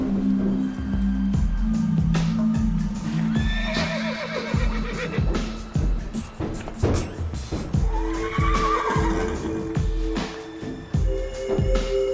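A horse neighs loudly in a stable setting, with a few separate whinnies and clip-clopping hooves scattered through the clip and a low hum underneath.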